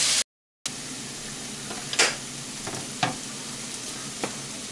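Rib eye steaks and pork loin sear in a cast iron pan, giving a loud, steady close sizzle broken by a few sharp bursts, with a short silent gap near the start.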